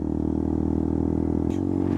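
A KTM Duke 200 motorcycle fitted with a LeoVince aftermarket exhaust gives a close, steady, deep-toned engine drone, holding an even throb before a slight shift near the end.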